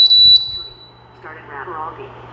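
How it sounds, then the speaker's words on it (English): A Pixhawk flight controller buzzer gives a short high-pitched beep at the start, followed by a quieter electronic warble and talk. "you could hear both the beep from the Pixhawk buzzer as well as Mission Planner trying to talk to us"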